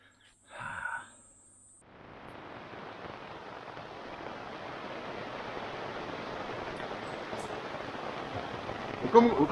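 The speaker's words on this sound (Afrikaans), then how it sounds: "dit reën lekker hierso" Steady rain falls after a brief faint sound at the start, a dense even hiss that builds slightly and holds throughout, close and fairly loud.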